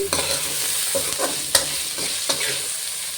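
Bitter gourd pieces fry in hot oil until crisp while a spoon stirs and scrapes the pan, giving a steady sizzle broken by several sharp clanks of the utensil.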